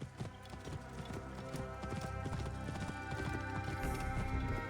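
Fast, steady hoofbeats of a galloping horse in Assassin's Creed Origins drum along without a break over a layer of tonal background music.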